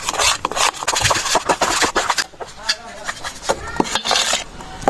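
A spoon or spatula scrapes and rubs against a pan while stirring a thick sohan halwa mixture, rapid irregular rasping strokes, loud and close, with brief pauses.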